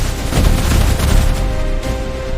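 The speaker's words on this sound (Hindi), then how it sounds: "चारों तरफ गोलियों की आवाज गूंज रही थी।" Loud, dense bursts of gunfire crackle close by in rapid overlapping volleys, with booming impacts underneath and no voices.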